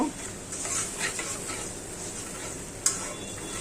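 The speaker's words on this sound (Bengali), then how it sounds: "এখানে হলুদ, মরিচ, লবণ, আদা, রসুন বাটা দিয়ে দিচ্ছি। মশলাটা কষাবো।" A spice paste of turmeric, chili, salt, ginger and garlic frying in a pan, with a steady sizzle, light stirring scrapes and one sharp utensil clink near the end.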